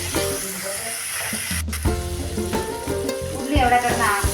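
Onions sauté in a pan for crab curry, a close, steady sizzle with repeated scraping and clattering strokes of a stirring spoon.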